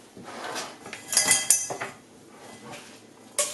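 Browned mince tipped into a metal sieve over a stove to drain the oil, with a few bright clinks and scrapes of metal against pan and sieve, moderately near, amid quieter kitchen handling noise.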